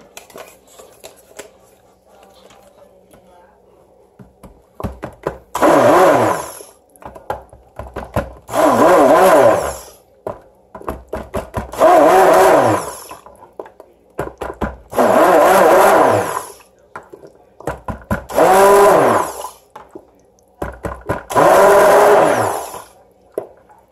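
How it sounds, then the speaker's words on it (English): A stick blender whirs in repeated bursts of a second or two each while mixing soap, roughly six pulses with quiet handling sounds and rustling between them. "I'll use my stick blender to help it along,"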